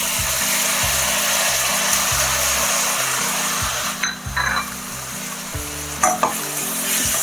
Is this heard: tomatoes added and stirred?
yes